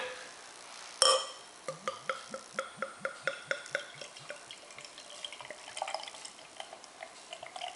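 A sharp pop, then a rhythmic series of glugging splashes as dark beer pours into a tulip glass, settling into a soft fizzing trickle.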